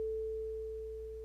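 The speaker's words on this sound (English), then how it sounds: "It basically adds an extra sine wave to the original." A steady pure sine tone from a Thor synthesizer's shaper section holds at one pitch, clean and sustained, fading slightly over about a second with no other sounds.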